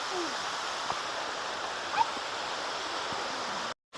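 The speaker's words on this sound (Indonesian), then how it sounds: "Sepertinya sih ini air terjun." Rushing water from what seems to be a waterfall at an outdoor religious garden park in Sidikalang, a steady broadband wash with a brief faint tonal blip midway and a short dropout near the end.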